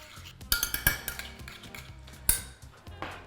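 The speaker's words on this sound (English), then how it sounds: "Crumble in the fresh yeast. Again, we're just trying to activate the yeast as quickly as possible. Give it a wee stir." A spoon stirs fresh yeast in a bowl, giving a series of close, light clinks and scrapes of metal against the dish, irregular and fairly quiet.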